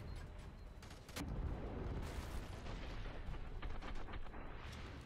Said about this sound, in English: A lot of explosions going on.